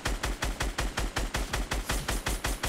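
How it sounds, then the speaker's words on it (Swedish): Rapid automatic gunfire in the Fortnite video game, a sustained burst of about fourteen evenly spaced sharp shots, loud and close with no talk over it. "Ett skott."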